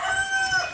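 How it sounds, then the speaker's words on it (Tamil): A brown rooster on a small farm with goats and hens crows once, a clear drawn-out call at moderate distance over faint background. "இதான் நம்ம சேவல், அந்த ப்ரௌன் கலர்."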